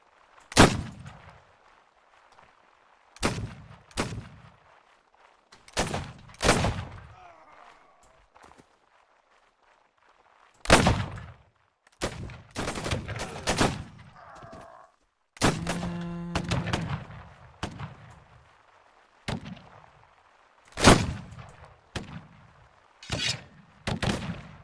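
Ship cannons from gunner crews boom in a Caribbean pirate video game, firing in sharp separate blasts spaced a few seconds apart, with some quick clustered volleys and faint game sounds between the shots.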